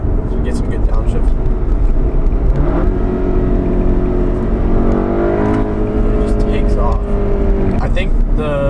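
A loud Volkswagen Golf R engine revs up and pulls hard, its pitch climbing steadily with a brief fast shift midway, while a person talks over the engine noise.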